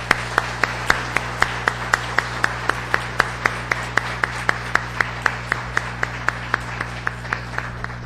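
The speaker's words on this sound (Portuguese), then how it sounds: "eu peço a todos que nesse momento deem uma salva de palmas a todos que participaram desta luta" An audience at a solemn municipal ceremony claps in a steady rhythm, with crisp, evenly spaced claps about three per second over a constant low hum.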